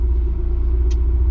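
A vintage Nissan Skyline cruises along, its engine a deep steady low rumble close by, with no talk over it.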